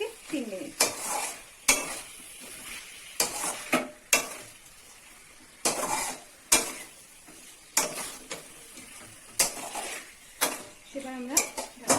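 Pieces of chicken are stirred in a pan as they cook down for a Bengali kosha, irregular spoon scrapes and clanks against metal over a low sizzle, close up, with brief quiet gaps.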